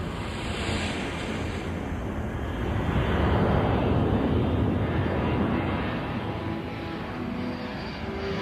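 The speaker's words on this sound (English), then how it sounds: "A C-141 lifts off from Thule Air Force Base." A C-141 transport jet takes off from Thule Air Force Base in Greenland, a steady broad roar that swells and holds throughout, heard from a distance with wind noise and no voices.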